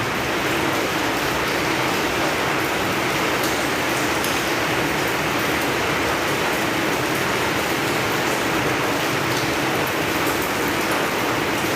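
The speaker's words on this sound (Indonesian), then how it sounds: "Ini suara hujan mulai turun." Rain falls in a dense, steady hiss of drops on surfaces around a house at night, loud and unbroken, with no voices.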